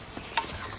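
Mushrooms stir-frying with Chinese cabbage in a hot pan, a steady close sizzle with a brief scrape and clink of the utensil.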